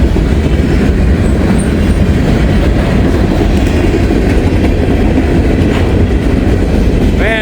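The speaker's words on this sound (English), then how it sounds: "Snapping and popping you here is the couplers rubbing against each other, adjusting" A long freight train rolls past at night, with couplers between cars snapping and popping over a loud, continuous rumble and clatter of wheels on rail, close and steady, with a brief squeal near the end.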